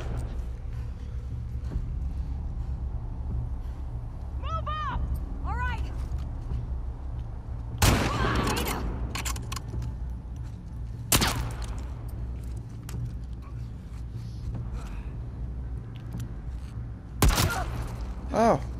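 Gunfire in The Last of Us Part II comes as a few sharp, loud bursts spaced across a quiet low background hum, with some brief high animal-like cries early on.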